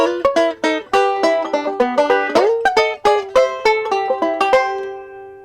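A banjo picks a quick, bright rolling pattern of plucked notes over a barred C seventh chord, close and clear, with steady rhythmic attacks and a little slide, in a song break.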